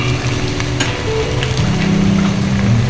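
Spice paste being fried down in a pan for hilsa pulao, a steady close, loud sizzle with light crackles and faint stirring scrapes throughout, no talk.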